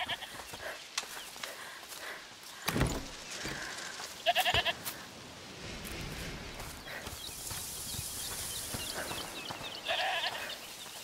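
A goat in the video game A Plague Tale Requiem gives a couple of short bleats from inside a house. Faint hoof-like clops and ambient game sounds fill the background.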